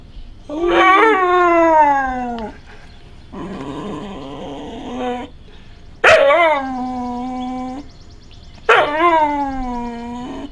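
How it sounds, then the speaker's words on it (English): An old deaf dog howls along in long, wavering, song-like phrases, four drawn-out howls with short pauses between, loud and close with no talk over them. "You sing pretty good for a deaf dog."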